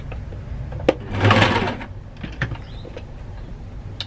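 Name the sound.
sewing machine stitching quilt block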